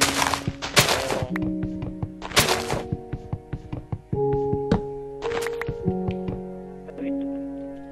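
Repeated blocky wooden chopping thunks from felling trees in Minecraft, irregular hits in quick bursts alongside short musical game tones and occasional voices.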